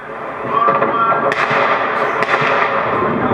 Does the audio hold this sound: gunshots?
yes